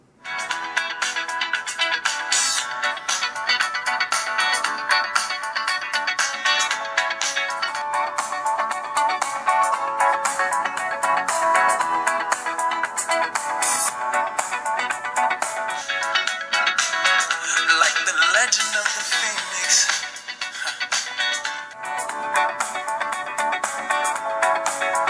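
A ringtone plays through the speaker of a Motorola Moto G phone, a continuous melodic tune that sounds thin and tinny with no bass and holds fairly steady for about twenty-five seconds.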